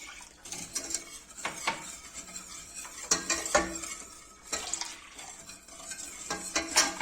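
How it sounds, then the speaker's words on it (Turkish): A spoon stirs flour into sour cherry juice in a pot until no lumps remain, making irregular close scraping and light clinks against the metal in uneven bursts. "Hiç topak kalmayıncaya kadar çeviriyorum."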